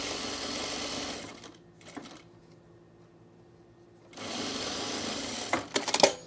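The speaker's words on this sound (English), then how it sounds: "We'll sew it at a 1/4 of an inch." A sewing machine runs a quarter-inch seam on men's cargo shorts with steady close whirring bursts, one before and one after a quiet pause, ending in a few sharp clicks and rattles.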